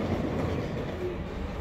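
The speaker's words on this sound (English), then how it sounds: "Apparently our first mode of transportation is going to be the metro." A metro train in Copenhagen rumbles along with a steady low drone and soft rail rattle, heard from inside at moderate, even loudness.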